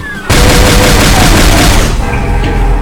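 A super shotgun blasts in Doom 2, one loud, dense burst that fills the mix after a brief quiet lead-in, then decays into a rumbling tail.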